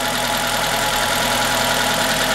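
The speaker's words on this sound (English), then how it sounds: "Rev it a little bit." A Nissan engine runs at a steady close idle with a dense mechanical hum and faint rhythmic ticking, holding an even tone throughout with no voices over it.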